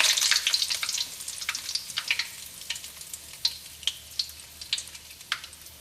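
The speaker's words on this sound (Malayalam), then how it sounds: "നമുക്കിതിലേക്ക് വേപ്പിൻ്റെ ഇല ഇട്ടിട്ടൊന്ന് പൊട്ടിക്കാം." Curry leaves spluttering in hot oil for a fish pickle, a bright, close crackle of sharp pops and sizzling bursts that start dense and thin to scattered spits.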